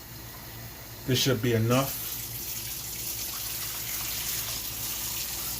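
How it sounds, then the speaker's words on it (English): Tap water runs steadily into a cooking pot in a home kitchen, a continuous rushing flow, with a person briefly speaking over it. "I'm gonna keep filling this up with water"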